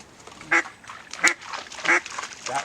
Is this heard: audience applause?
no